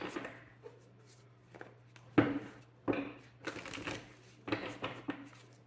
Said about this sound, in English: So we're gonna pull some playing cards.